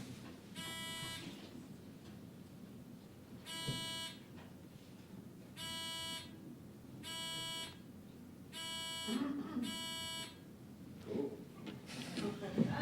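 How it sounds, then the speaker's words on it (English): A series of quiz bowl buzzers tested one after another, six or so sharp tonal beeps spaced a second or two apart, over low room murmur. "Check the buzzers starting at the end"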